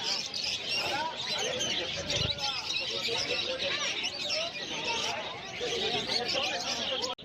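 Caged finches and conures at an outdoor pet market in Uluberia, a dense continuous chorus of high chirps and tweets from many birds close by, with someone talking over the chatter.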